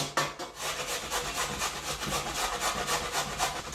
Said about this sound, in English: this wee bit I'm just going to grate into the bowl